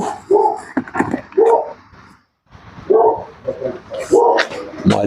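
An excited dog barks and yips several times in bursts, fairly close, mixed in with ongoing talk from a person nearby.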